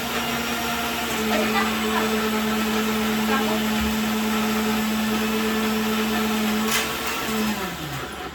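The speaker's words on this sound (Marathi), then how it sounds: "मी पटकन आता वाटून घेते मित्रांनो" Mixer grinder running steadily while grinding curry masala for a chicken curry, a loud continuous motor whir with a sustained hum that winds down near the end.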